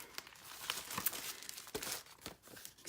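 Crinkly card kit packaging is rummaged through to find envelopes, giving close, soft plastic and paper crumpling with a few sharper rustles and tearing-like crackles over about three seconds.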